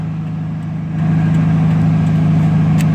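A vehicle with 273,000 miles fires up and settles into a steady, loud idle, its low engine hum stepping up slightly after the first second and holding even.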